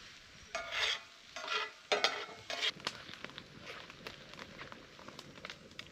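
Onions cook in olive oil in a pan, with a few loud scraping stirs up front, then a soft, steady sizzle with light clicks close by.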